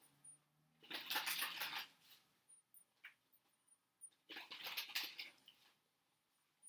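Two bursts of oracle cards being shuffled up close, quick riffling and flicking, separated by a pause with a few light taps.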